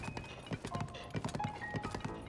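Horse hooves clip-clopping in the video game The Legend of Zelda: Tears of the Kingdom on a mountaintop, a quick irregular run of hoof clops at moderate level with faint ambient tones behind.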